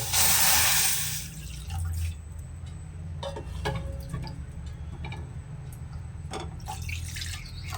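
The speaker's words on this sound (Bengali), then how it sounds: "এই কাপের মাপ করে 3 কাপ দুধ কড়াইয়ে দিয়ে দিচ্ছি" Three cups of milk pour into a small kadai on a gas stove in a loud, close splashing gush that lasts about a second, followed by quieter ticks and clinks.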